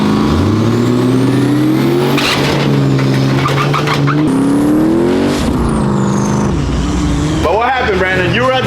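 A turbocharged truck revs hard and spools at a drag race launch, with a loud engine drone and rising pitch sweeps under shouting and crowd voices, ending in sharp whining bursts.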